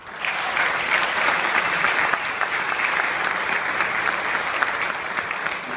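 Audience applause at a mayor's speech after a pledge on police funding: steady, dense clapping from a large crowd that fills the whole stretch at an even level, with no voices above it.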